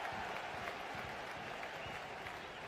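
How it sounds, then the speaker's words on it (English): Crowd at a German third-division football match between 1860 München and FC Ingolstadt applauds a well-worked breakaway, a steady, distant patter of clapping spread across the stadium, faint under the broadcast mix. "A round of applause and appreciation of another well put together breakaway."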